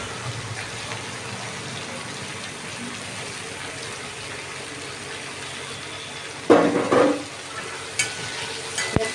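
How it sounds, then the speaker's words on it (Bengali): Chopped onion frying in a pan for a Bengali rohu fish-head muriganto, a steady low sizzle with occasional stirring, then a louder burst of scraping and spattering near the end. "পেঁয়াজটাকে ভাজতে দিলাম।"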